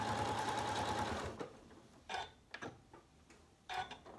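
Sewing machine stitching a locking stitch on a quilt of crumb fabric, a steady close mechanical whir for about a second, then stopping, followed by a few faint clicks and short handling noises.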